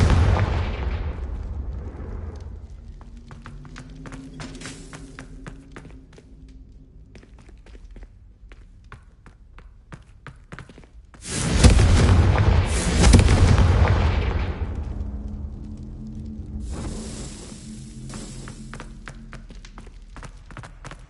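In Hogwarts Legacy, a Confringo explosive spell bursts into a loud roaring blast midway, following softer footsteps and game rumble, then decays into lingering debris noise.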